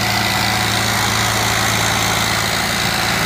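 A tractor pulling a trolley runs nearby, its heavy engine producing a loud, steady low chugging throb that stays constant throughout the short stretch, with no voices.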